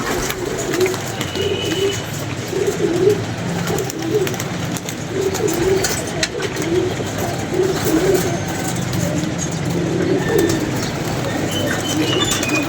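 Pigeons cooing nearby in repeated soft, throaty phrases over a steady background hum, recurring every second or so for the whole stretch with no talking.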